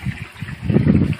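A garden pond waterfall runs with a soft, steady splashing trickle, close by and moderately loud for just over a second.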